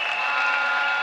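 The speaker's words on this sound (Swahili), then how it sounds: "Makofi kwa mambo ya education." Applause at a women's charter signing ceremony, a steady wash of many hands clapping, loud and continuous, with no voices over it.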